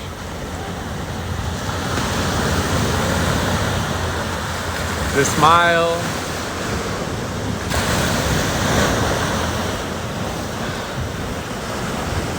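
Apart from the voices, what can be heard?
ocean waves crashing on the beach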